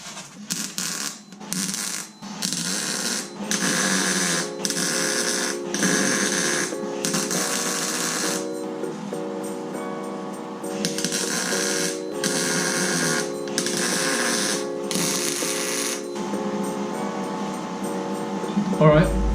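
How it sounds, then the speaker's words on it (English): A welder turned right down lays short cold tack welds on an R32 GTR jig, crackling bursts that start and stop in a broken rhythm, close and fairly loud, with a voice talking between them. "The welder's turned right down to do the tack."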